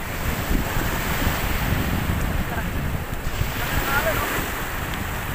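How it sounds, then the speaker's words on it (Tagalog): Sea waves roll onto the shore at a fish terminal in Tanza, Cavite, making a continuous broad wash of surf mixed with wind buffeting the microphone, steady and fairly loud throughout. "Maganda mga alon, maganda mga alon."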